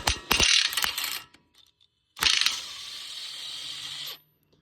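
Pneumatic impact wrench rattling loose the caliper mounting bolts on a 2009–2014 Ford F-150 4x4, two sharp bursts of hammering, the second a longer sustained run, close and loud with a pause between.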